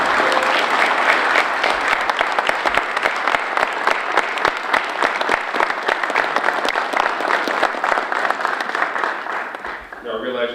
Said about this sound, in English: could Molly and Julio stand for another round of applause?